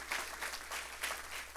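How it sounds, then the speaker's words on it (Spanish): Congregation clapping in a church service, a soft, steady patter of many hands with gentle rhythmic surges, fairly distant and low in level, with no voices over it. "Fuerte el aplauso al Señor."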